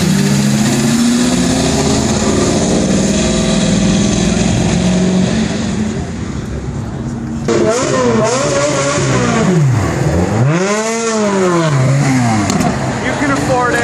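A loud Ferrari engine roars close by as the car is pulled over at a cars and coffee meet, a steady deep drone rising into revs and passes, with people talking over it.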